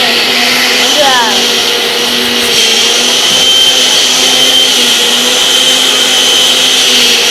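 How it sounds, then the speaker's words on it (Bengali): An electric mixer grinder grinds cumin seeds with a loud, steady whirring drone and a slight pitch shift early on. A voice briefly speaks over it. "জিরা মিক্সার করছে"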